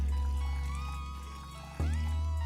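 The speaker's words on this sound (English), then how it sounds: "We put some water in our pot," Water pours into a pot for pear compote in a steady, close stream that thins slightly before a brief break and a fresh pour, with low hum underneath and no talk.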